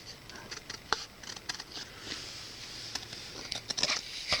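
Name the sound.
scissors cutting waterslide decal paper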